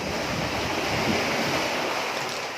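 Sea waves wash steadily onto a beach at Butas Butas Beach Resort in Mauban, Quezon, a continuous loud hiss of surf mixed with wind buffeting the microphone.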